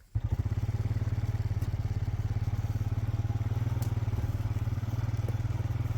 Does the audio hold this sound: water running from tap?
no